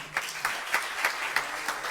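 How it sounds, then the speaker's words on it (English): Sparse, fairly quiet clapping from an audience for a guest speaker, a handful of distinct claps spaced at a steady rhythm across two seconds in a room. "So give him a round of applause again"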